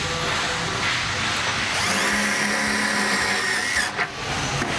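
A power drill drives a screw into the top of a single-blade spiral duct damper, giving a steady, close mechanical whine for a few seconds with nothing else heard around it.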